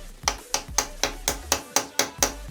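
Hammer blows on a socket wrench fitted to a bolt on a Kawasaki ZR-750 Zephyr motorcycle, struck to loosen it: nine sharp, evenly spaced metallic strikes about a quarter second apart, close and loud, with no talking.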